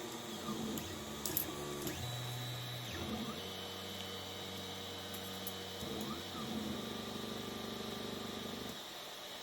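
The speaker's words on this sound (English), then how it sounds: "we will start leveling the things again" An Alfawise U30 3D printer runs its homing and leveling moves, its stepper motors whining in steady tones that shift pitch as each axis travels, with a constant electronic hum underneath and no voices.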